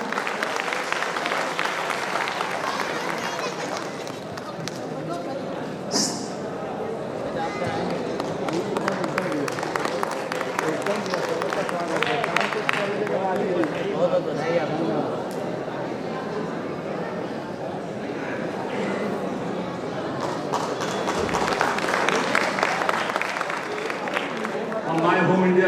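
An audience at an award ceremony in Varanasi gives warm, sustained applause to welcome guests, a steady wash of clapping running throughout with voices and some crowd noise mixed in.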